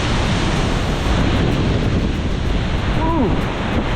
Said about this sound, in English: There she is. Wow, massive. So much water coming over,